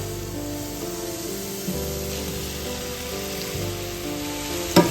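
Soya beans fry in a pan for a Kerala-style vegetarian ularthu, a soft, steady, spray-like sizzle at moderate distance with a faint low hum underneath and a small clink near the end.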